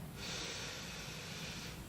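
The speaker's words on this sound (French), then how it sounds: "là on force un petit peu la respiration, mais dosez toujours votre effort. Allez, une dernière fois, inspire." A person inhales forcefully through the nose during a breathing exercise, a single sustained airy rush lasting under two seconds, close and fairly quiet, with no talking.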